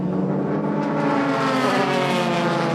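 A Honda race car in a Super GT race at Sugo pulls out of the pit stop, its engine a loud steady roar that rises gradually in pitch as it accelerates away.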